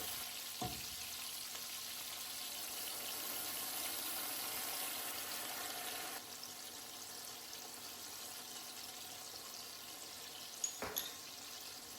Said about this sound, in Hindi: अब मैं इसमें थोड़ी सी यखनी डालूँगी ताकि ये टमाटर जो है तो ये अच्छे तरीके से गल जाएँ।